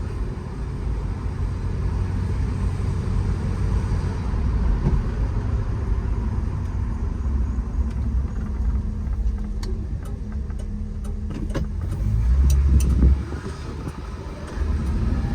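A 1976 Dodge Dart Swinger Special with a slant six engine idles through a quiet muffler, a low steady rumble running evenly throughout with faint ticking and a brief louder swell near the end.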